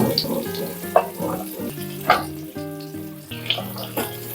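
Vegetables for polta leaf shukto dropping into a hot oil tempering with a few crackling sizzle bursts, heard under background music.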